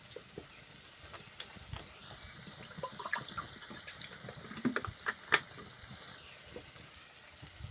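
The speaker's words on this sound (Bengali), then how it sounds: "নিয়ে অল্প করে জল দেব।" Water poured in a thin stream into a pan of salted cucumber ghonto, a steady soft trickling rush lasting several seconds, with light clinks and taps over it.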